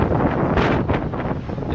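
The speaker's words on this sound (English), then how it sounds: "Look at how windy it is, Steph." Strong wind on a ship on the South Pacific Ocean roars against the microphone in loud, continuous gusts with brief surges, filling the whole short moment.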